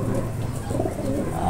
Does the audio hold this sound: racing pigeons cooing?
yes